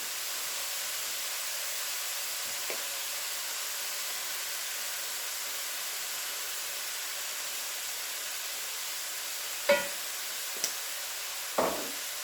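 Peas and carrots warming in a pan for chicken fried rice, a steady soft hiss and low sizzle throughout, broken by a few brief scraping or tapping sounds near the end.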